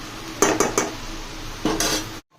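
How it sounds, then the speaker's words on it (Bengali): A metal spoon scrapes and clacks against a pan while spinach and potato curry is stirred, four or five distinct knocking bursts close up with no talk, ending in silence. "শুধু বেশ লাড়া দিচ্ছি"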